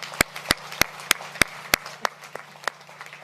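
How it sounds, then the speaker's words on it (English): Workers at a Honda electric vehicle investment announcement applaud, though it comes through as a thin run of about ten loud, separate claps at a steady pace, close by and sharp, with no speech over them. "you deserve a big round of applause"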